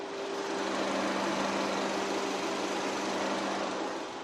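A Renault Samsung SM7 2.0 LPG engine idles steadily, recorded up close with the bonnet open, a smooth, even hum with a constant low tone and airy hiss, no voices.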